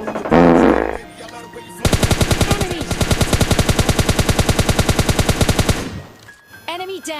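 Sustained rapid automatic gunfire from a prone position in PUBG Lite, a dense rhythmic burst lasting several seconds, loud and close, preceded by a shorter burst and followed by faint game sounds.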